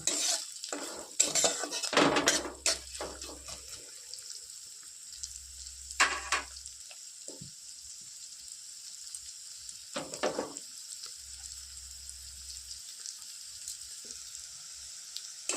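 Chopped onions frying in a pan for butter tadka, a light sizzle under repeated clinks and scrapes of a spatula stirring against the pan, in intermittent bursts.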